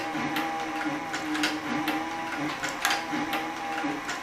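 A Cowboy CB3200 leather sewing machine, a saddle and harness stitcher, runs slowly through leather with a steady mechanical hum and a regular rhythmic knock of the needle, close and alone.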